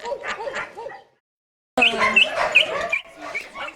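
Small dogs at a greyhound refuge in Spain bark and yap in busy bursts, close and loud, broken by a brief silent gap before the excited barking resumes with high sharp yelps.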